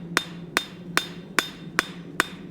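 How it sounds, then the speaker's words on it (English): Forging hammer peening metal on an anvil to add texture, using a broad peen tilted on end: six sharp, ringing metallic strikes at a steady, even rhythm, close and clear with no talking. "we're just going to give it some basic texture, some peening texture to it."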